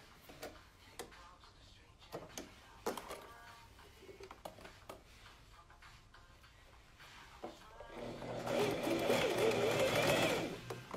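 Sewing machine stitching a blouse, starting with scattered light clicks and handling noises, then running in a loud continuous whirring burst for the last few seconds.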